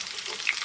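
Cut potatoes frying in a pot just above medium heat, giving a brief, even crackling sizzle up close with no voices.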